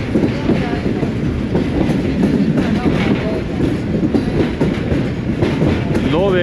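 Subak Raftar railcar running along the track, a close, steady roar of wheels and rails with clattering joints and a brief rising squeal near the end, no voices.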